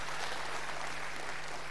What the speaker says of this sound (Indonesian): Tepuk tangan sahabat-sahabat sekalian semua